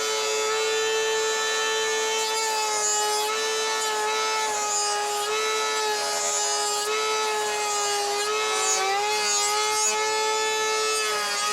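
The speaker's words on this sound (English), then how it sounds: "we're going to put a bevel on those with the router table" A router table runs with a constant, strong tonal whine while cutting a bevel on wood, holding steady throughout with slight wavers as the cut progresses.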